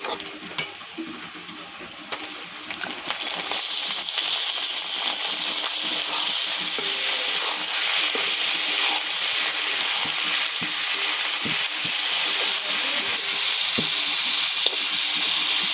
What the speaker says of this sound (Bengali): পেঁয়াজের সঙ্গে মাংসটা দিয়ে ভেজে নেব একটু।